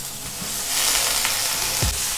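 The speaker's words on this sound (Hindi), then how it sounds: "हाई फ्लेम में सब्जी को फ्राई करेंगे।" Boiled potato and cauliflower with sliced onion fry over a high flame for aloo gobi, a dense continuous sizzle with occasional soft stirring knocks, close and alone.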